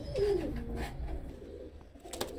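Pure-bred pigeons coo close by, a low throaty call rising at the start then fading into soft rumbling and faint movement noise.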